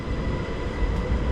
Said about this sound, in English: This is a train going to Gare du Nord.